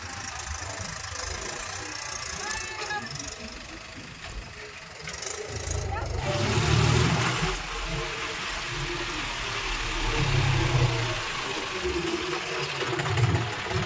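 A John Deere tractor engine runs steadily with a low, rumbling chug that swells and eases, heard nearby on a farm with some speech over it.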